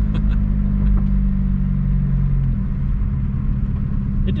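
A VW Jetta TDI doing a burnout: a loud, close engine drones and rumbles steadily, the pitch holding and then dropping partway through, with no one speaking.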